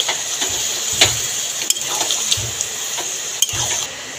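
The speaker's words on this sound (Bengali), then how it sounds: "পরিমাণ মতন জল দিয়ে দিয়েছি।" Water pours into a pan of jackfruit curry, with a broad rushing wash and several clanks of a metal utensil against the pan, close and fairly loud, no voices.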